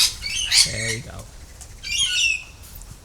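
A bird squawks and flaps its wings close by in a few harsh, short bursts separated by pauses, loud against a quiet background.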